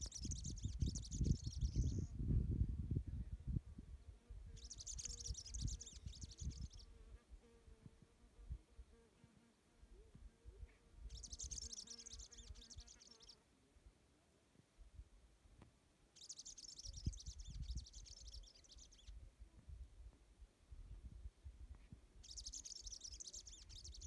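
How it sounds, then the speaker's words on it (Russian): A small bird sings at Laguna Quilotoa, Ecuador, in several high, brief phrases repeated every few seconds, faint and distant over outdoor rumble and rustling. "Тут миленькая маленькая птичка поет."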